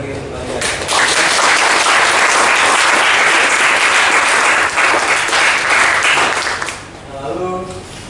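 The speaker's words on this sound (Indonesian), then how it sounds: "Jadi nggak ada salahnya kalau kita kasih aplaus bagi untuk kalian." Applause for first-grade students at a school appreciation day, a loud sustained crowd clapping lasting several seconds before fading, with a voice speaking briefly at the end.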